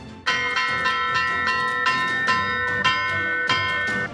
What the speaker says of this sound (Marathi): शाळेची घंटा कधी वाजणार?